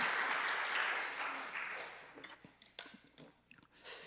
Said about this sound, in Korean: 우리 농어촌부 부장님 위해서 박수 한 번만 쳐주시죠.